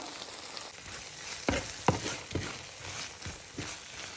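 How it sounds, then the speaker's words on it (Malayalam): Mussel pepper roast frying in a pan while being stirred, a continuous sizzle broken by several sharp scraping strokes of the spoon against the pan, close by and with no talk. "ഇടയ്ക്ക് നല്ല ഫ്രൈ ആവാൻ വേണ്ടി ഒന്ന് അടിയിലേക്ക് പിടിക്കാതെ ഒന്ന് ഇളക്കി കൊടുക്കും"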